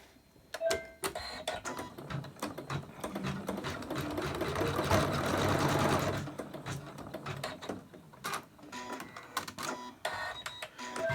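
An embroidery machine stitches a horizontal line for a Christmas angel design, a fast steady mechanical whirring and clattering that builds to a denser run in the middle and then settles into intermittent ticking, with no talking.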